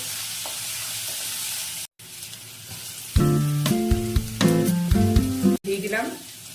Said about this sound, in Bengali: এবার এই তেলের মধ্যে দিয়ে দিচ্ছি রসুন কুচি আর আদা কুচি